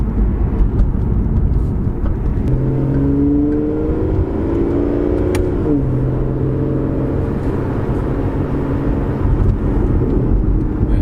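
An Aston Martin Vanquish cruises along, its engine note steady and moderately loud over road and wind noise, with a brief rise and fall in revs partway through.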